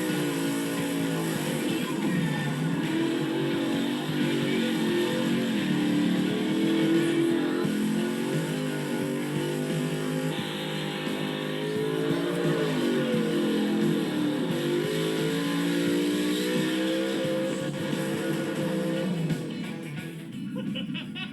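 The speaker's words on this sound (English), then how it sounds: "twin turbo F-150s, really good at burnouts once you unhook the ABS sensor" Twin-turbo Ford F-150 pickups with the ABS sensor unhooked do burnouts, giving a sustained, loud engine roar with wavering revs that holds for about twenty seconds before easing slightly at the end, with no talking.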